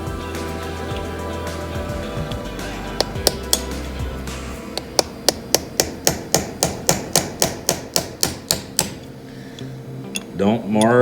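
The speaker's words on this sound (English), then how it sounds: "We use a cape chisel to go down next to the filter seal." Steel cape chisel hammered around the aluminum pan lip of a 4L60E transmission to cut the filter seal, a steady run of about fifteen sharp, close metallic strikes after some scraping and handling.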